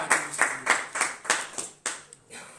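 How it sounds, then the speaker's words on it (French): A church congregation claps for the Lord in a quick run of sharp, rhythmic claps that fade after about two seconds, close and without talk. "N'applaudissez le Seigneur bien fort"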